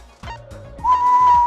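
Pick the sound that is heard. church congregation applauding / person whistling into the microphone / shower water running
person whistling into the microphone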